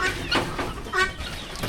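Hen clucking in short bursts, near and fairly loud, a few clucks spread over under two seconds against a busy background.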